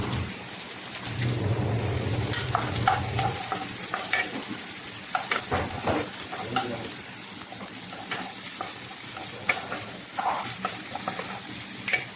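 Onion and garlic sautéing in a hot pan for bitter gourd with shrimp, a steady loud sizzle with scraping stirs and clatter of a utensil throughout, no talking.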